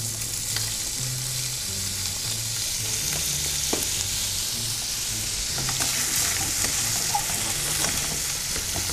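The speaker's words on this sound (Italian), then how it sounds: "Versiamo l'olio nella padella e iniziamo a saltare il nostro guanciale tagliato a dadini." Diced guanciale sizzles steadily in oil in a frying pan, a dense, even hiss that stays close and continuous for nine seconds, with faint occasional stirring clicks and a low background hum, and no talk.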